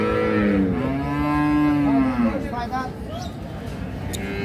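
A Holstein Friesian bull calf at a cattle market gives a loud, drawn-out moo lasting about two seconds, followed by nearby voices and the general murmur of the market.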